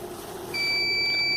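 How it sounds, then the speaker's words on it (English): A sensor buzzer detecting rotting potatoes in a storage sack switches on partway through and sounds as a steady, continuous high-pitched electronic tone over a low background hum. "the buzzer is on, which in turn indicates that the potatoes are rotted"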